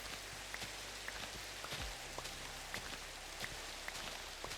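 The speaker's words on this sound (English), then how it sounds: "It's raining, hooray!" Rain falls in the Minecraft video game as a constant soft patter of drops, quiet and even, with no voices.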